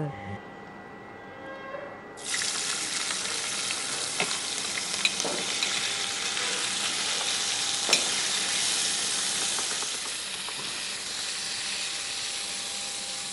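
Food sizzles and spits in a hot pan as it is stirred, a steady loud frying hiss beginning abruptly and continuing with occasional scraping clicks, voices faintly present.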